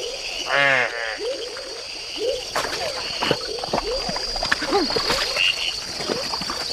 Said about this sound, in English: Oh, that's Phrynohylas venulosa. That's a really neat frog.